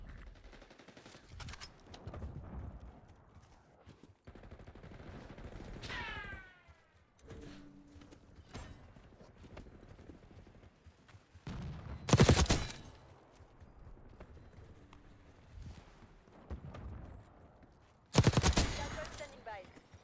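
Gunfire in the Black Ops 6 game: scattered quiet shots and rattling bursts, with two loud sharp volleys standing out near the middle and end, mixed with clicks and other game effects.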